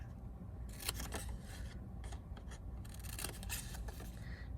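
Scissors snip straight down through paper or fabric while notching pieces for a craft project, a series of quick, close cutting strokes over a steady low background hum.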